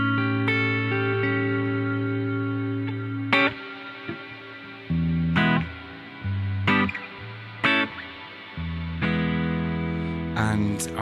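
An electric guitar plays through a BOSS GT-1000 on a wet channel with reverb, its sustained chords and single notes ringing out in a spacious wash between sharper plucked attacks, with no talk.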